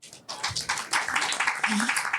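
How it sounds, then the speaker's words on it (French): Audience at a live talk event claps steadily and moderately loud for a couple of seconds, a dense patter of hands with no talk over it. "Sur ces bons mots, on peut les applaudir."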